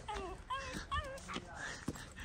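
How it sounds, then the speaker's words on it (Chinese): A small dog whimpers and yips in short, high, wavering cries while playing outdoors, faint and intermittent, with brief thumps between. "你看那个小狗。"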